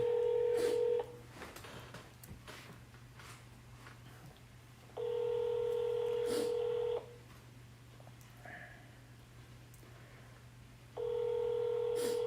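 A phone call is placed during a nationwide mobile network outage: a quick burst of dialing tones opens, then a repeating ringback tone sounds in long even pulses separated by silence, faint and alone.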